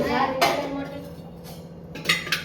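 Metal cooking pots are handled and swapped in a home kitchen while making mawa, giving a few sharp clanks and clinks at irregular moments, close by, with a voice speaking underneath.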